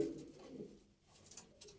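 Soft, low pigeon cooing in a short burst inside a coop, close but quiet, with faint rustling around it.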